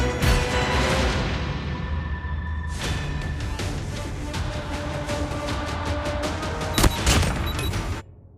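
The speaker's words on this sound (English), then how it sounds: "Friendly Predator missile inbound." A Predator missile strike in Call of Duty Mobile, a dense rolling barrage of blasts and crackling fire that rumbles loudly for several seconds, with a sharp boom near the end before it fades.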